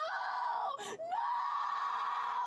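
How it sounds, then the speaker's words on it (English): A person screams in a long, shrill, wavering cry from footage playing back, breaking off briefly before the high strained wail resumes and holds steady to the end. "Why are you screaming like that, bro?"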